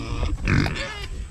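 Pigs on a homestead give a short, close, rough grunting snort, loud and alone for a moment against outdoor background noise.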